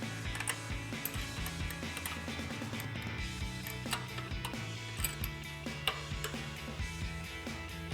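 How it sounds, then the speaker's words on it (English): Ratcheting clicks of a 9mm wrench tightening a grease fitting into a ball joint on a 2007-2015 Chevrolet Silverado 1500 front lower control arm, a quick irregular run of faint metallic ticks close by with no talk. "we're gonna grab our 9mm wrench and tighten that down"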